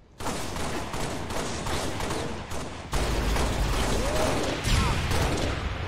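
Shotgun fire during a multiplayer match in Halo: The Master Chief Collection, a loud continuous barrage of blasts and clattering gunfire that intensifies partway through.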